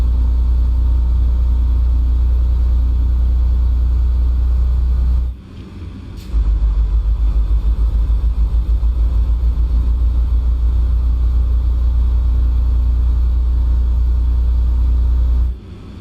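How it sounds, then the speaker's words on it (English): A truck engine runs steadily with a loud, deep low rumble, broken by two short dips where it briefly quiets before resuming its constant drone. "I'm starting to like the sound of these engines"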